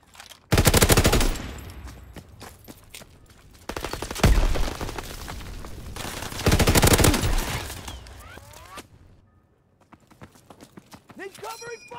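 Bursts of automatic gunfire in Call of Duty WWII team deathmatch at London Docks: three loud, rapid volleys separated by short pauses, followed by quieter scattered shots, with game voice callouts mixed in.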